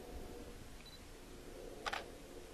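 A single camera shutter click, quick and sharp, as the shutter speed is dialed down, faint against a quiet room hiss.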